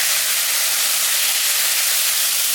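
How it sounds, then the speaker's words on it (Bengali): Potato and eggplant pieces hit hot oil in a pan, giving a loud, steady, close sizzle that hisses continuously without pause or voices. "আলু বেগুন দিয়ে দিই।"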